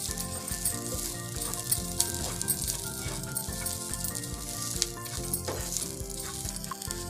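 Cloves and black peppercorns dry-roasting in a pan for a Malvani chicken masala, a close steady sizzle with small rattling clinks of spices shifting against the metal.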